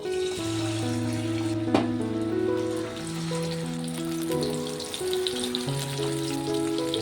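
Kabuli chickpeas frying in plenty of hot oil in a wok make a continuous soft sizzling hiss with one sharp clink, heard under steady background music.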